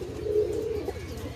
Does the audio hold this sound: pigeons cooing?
yes